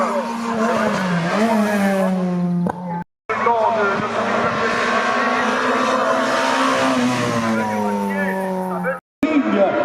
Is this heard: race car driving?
yes